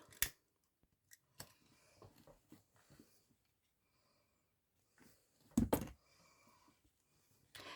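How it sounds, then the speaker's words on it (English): Scissors snip off excess ribbon in a few quiet, close cuts, with one louder double snip near the end, set against near silence. "cut that extra off."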